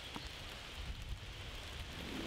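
Steady, light rainfall in the Stroud valleys, a continuous soft hiss with no voices over the whole stretch.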